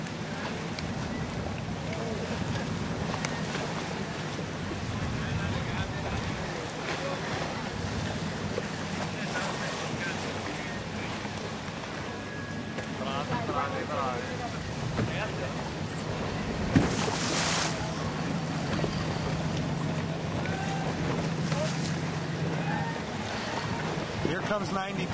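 A racing sailboat surfs waves in a lumpy sea near a race finish, with steady wind buffeting and rushing water throughout and a voice talking over it.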